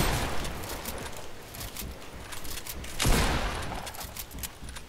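Fortnite gunfire in a busy match, a run of sharp shots and bursts over a dense noisy game mix, with one louder volley near the end and no talking.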